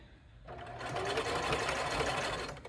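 A home sewing machine runs a short back stitch, its rapid needle chatter starting quietly, then rising into a steady close whir for about two seconds before slowing.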